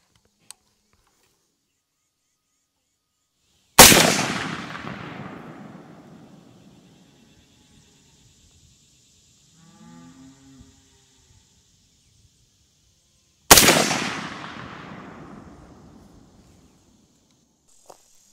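Two loud rifle shots fired at an outdoor target range during a red dot sight test, about ten seconds apart, each a sharp crack with a long fading echo, a faint rustle heard between them.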